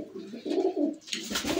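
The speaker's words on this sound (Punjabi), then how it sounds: "ਇੱਕ ਲਾਲ ਕਬੂਤਰ ਅਤੇ ਲਾਲ ਮਾਦੀ ਹੋਣੀ।" A pair of red pigeons kept for sale coo close by in a few throaty, rolling phrases, with fluttery rustling near the end.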